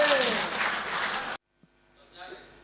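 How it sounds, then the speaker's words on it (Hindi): Crowd applause greeting a comedian at a live comedy and poetry show, a dense, loud wash of clapping that cuts off abruptly partway through, followed by near silence and faint room sounds. "जोरदार तालियों से स्वागत करें"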